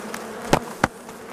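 Honey bees hum in a steady drone at the hive during honey harvesting, with two sharp close buzzes as single bees pass near.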